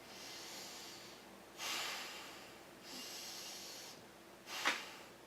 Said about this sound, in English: they're all breathing with their chest and shoulders and traps and upper back rather than their diaphragm